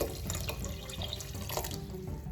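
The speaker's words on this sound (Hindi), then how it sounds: "जी, तो थोड़ा सा पानी और ऐड कर देते हैं।" Tap water runs steadily into a pressure cooker pot of beef yakhni pulao stock, a close, continuous splashing pour with no talk.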